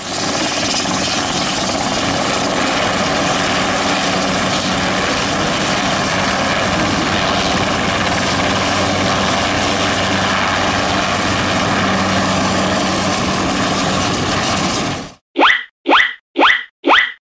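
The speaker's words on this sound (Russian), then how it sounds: "Это синий вертолет." A helicopter's loud, steady rotor and engine drone fills most of the clip, then cuts off, followed by a few short separate bursts.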